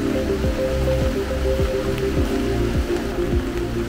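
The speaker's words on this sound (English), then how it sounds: "It's raining very heavily." Heavy rain falls steadily on a hillside nature park, a dense continuous patter with a constant wash of noise and no voices.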